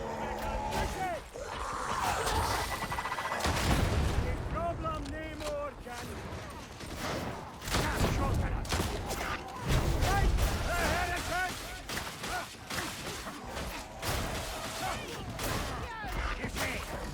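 Sniper gunfire in a video game, sharp cracks and scattered shots over constant battle noise while someone talks over much of it.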